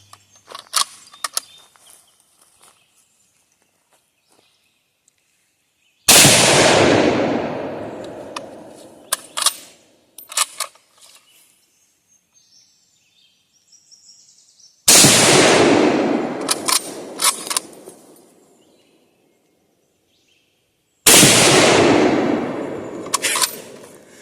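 Three loud, booming shots from a Carcano M1891 TS 6.5x52 rifle, fired outdoors and spaced several seconds apart, each with a long echoing decay. Quieter clicks and handling noises fill the gaps between shots.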